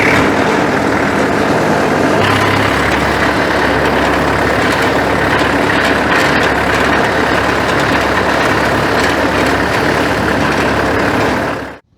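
A farm tractor idles loudly and continuously for about twelve seconds, a dense, even mechanical rumble with no voices, cutting off abruptly at the end.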